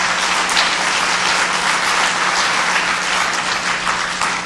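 A lecture audience at a 2008 anniversary talk on the inter-Korean summit declaration bursts into loud, sustained applause, a dense even wash of clapping throughout with no speech.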